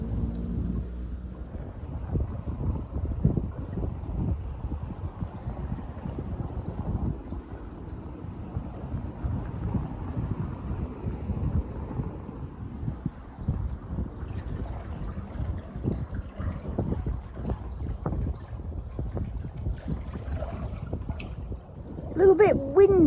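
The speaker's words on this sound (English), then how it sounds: "A little bit windy hitting the side of Wattway, so I'm going up the canal slightly sideways" Steady gusty wind buffets the side of a narrowboat cruising up a canal in autumn in northwest England, a continuous low rumble with wind noise on the microphone throughout.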